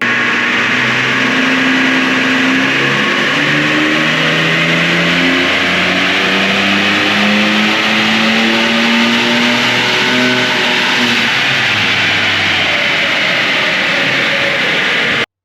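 A 2024 Ford Ranger Raptor with upgraded intercooler and airbox runs on a dyno during a power run, its engine loud and close as it climbs steadily through the revs for about fifteen seconds, with no voices.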